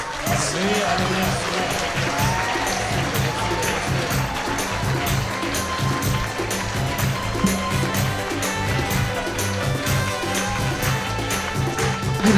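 Worship congregation at a Kreupasanam live prayer service clapping hands in steady rhythm, a dense continuous wash of applause with crowd noise and music underneath, loud and sustained throughout.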